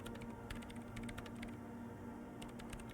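Quiet keyboard typing at a terminal in Disco Elysium: The Final Cut, bursts of rapid keystrokes with a short pause in the middle, faint and close over a low steady hum.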